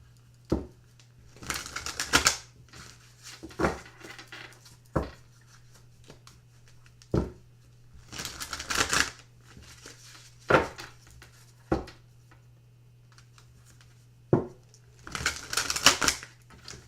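A Witch's Tarot deck is shuffled in a few short riffling bursts, broken up by sharp isolated taps and card knocks, close and moderately loud over a steady low hum, with no talking.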